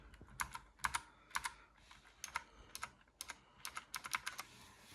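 Keys pressed on a Fourze GK 100 mechanical gaming keyboard give sparse, separate clicky taps in small clusters, close but quiet, with no talking.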